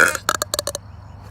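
A loud, close burp breaks into several quick, stuttering pulses over roughly half a second, then trails off into quiet room tone.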